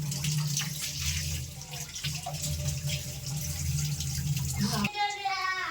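Water pouring off boiled rice for chicken biryani, a steady splashing gush of draining liquid that continues for about five seconds before stopping abruptly.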